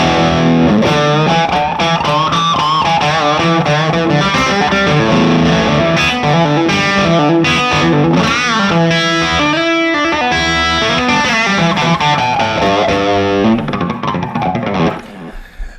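Distorted electric guitar played through a Marshall Superlead amplifier, a loud, dense run of chords and notes that holds steady throughout and tails off near the end.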